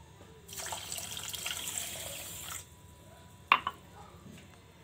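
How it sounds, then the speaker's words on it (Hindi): A cup of water poured into a pot of sugar while making Turkish halwa (lokum): a soft two-second splashing pour, followed by two quick metallic clinks, all fairly faint. "1 कप पानी इसके अंदर डाल लीजिए।"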